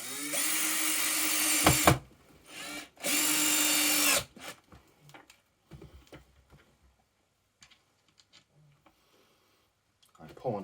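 A power drill or electric screwdriver driving a screw into wood, two loud sustained whirring bursts close by, then scattered clicks, handling noises and quiet movement, ending with another brief burst.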